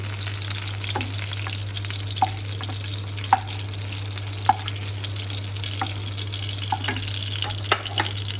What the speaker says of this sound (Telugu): 5 నిమిషాలు వేయించుకుందాం.